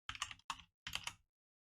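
Typing on a computer keyboard while working on custom UI code for a Bannerlord mod, heard as three short bursts of close, clicky keystrokes separated by brief pauses.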